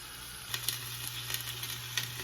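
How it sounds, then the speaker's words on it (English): Vegetables sauté gently in a tablespoon of olive oil, giving a soft, continuous sizzle with a few light pops and stirring taps, close and quiet. "I put all our veggies in and I'm just gonna now give it a light saute."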